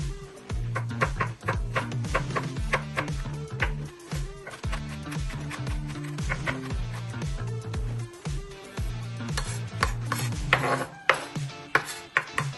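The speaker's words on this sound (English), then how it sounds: "Once you've peeled your garlic, now we can chop it up." A knife chops peeled garlic sprinkled with salt on a cutting board, rapid rhythmic taps repeating steadily and close up, with a few scrapes and no talking.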